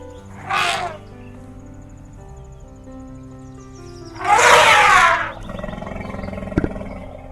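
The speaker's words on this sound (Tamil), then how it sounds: "ஆத்தாடி, யானை!" A wild elephant trumpets twice: a short call, then a longer and louder blast a few seconds later, with quiet ambience between and after.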